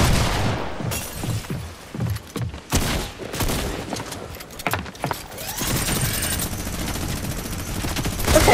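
Minigun gunfire in a Fortnite match, loud rapid bursts of shots with booms and breaks between them, then a sustained barrage near the end.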